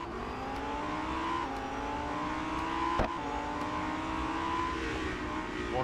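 A Lamborghini Huracan STO races in the Real Racing 3 mobile game, its engine holding a steady high whine with small pitch shifts as gears change. Other cars roar nearby and a sharp knock lands midway.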